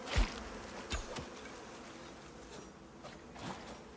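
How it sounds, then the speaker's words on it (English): Bees buzzing in the survival video game Icarus, a few short close buzzes and clicks near the start, then a thinner, steadier drone fading in and out over faint background ambience. "Get out of my way, bees."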